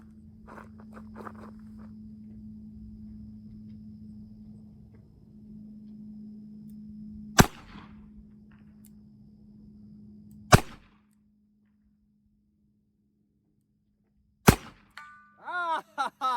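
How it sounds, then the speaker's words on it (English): A Smith & Wesson pre-Model 19 Combat Magnum double action revolver fires at an outdoor 75-yard target: three sharp, loud shots several seconds apart over a steady low hum, followed by a brief vocal exclamation. "I'd love to get a double action shot on that 75-yard target"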